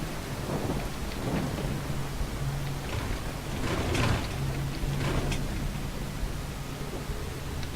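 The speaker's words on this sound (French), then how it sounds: "Ça arrête déjà de pleuvoir, genre c'était une petite pluie celle-là." Steady rain hiss with low thunder rumbling underneath in Fallout 4, swelling midway before easing, with no voices.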